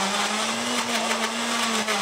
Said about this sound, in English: give this a quick mix in this blender